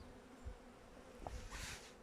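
Honey bees buzzing in an opened hive during a November inspection, a faint, steady drone with a few soft knocks and a brief hiss.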